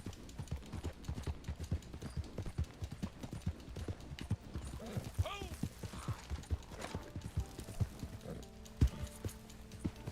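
Black Turkoman horse hooves clip-clop steadily in the Red Dead Online video game, a continuous rhythmic patter of close, moderate footfalls with faint background game sounds and a voice briefly present.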